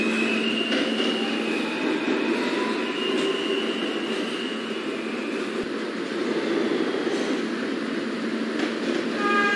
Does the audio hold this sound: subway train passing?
yes